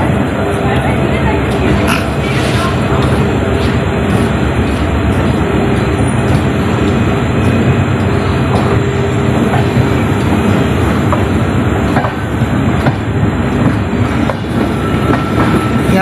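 A moving Kamrup Express train in Assam rumbles steadily from inside the coach, with a loud continuous roll and occasional wheel clatter. A voice talks over it.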